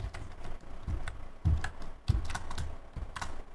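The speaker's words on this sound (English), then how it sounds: "So to do that, we type cd space" Typing on a computer keyboard while entering terminal commands, a steady run of close, crisp key clicks with a few heavier thumps, likely the space bar or enter key, with no talking.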